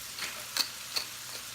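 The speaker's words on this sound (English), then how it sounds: "while this is frying on that side" Chicken frying in a pan, a faint steady sizzle with a few soft ticks and stirring touches, close and without talk.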